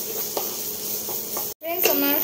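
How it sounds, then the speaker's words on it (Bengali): Onion, chili, garlic and ginger stir-fried in a pan, a steady close sizzle with scraping stirs, a brief cut, then the sizzle resumes. "সবগুলোকে একসাথে মিক্স করব।"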